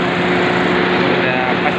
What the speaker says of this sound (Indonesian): Tinggal kita matikan aja mesinnya.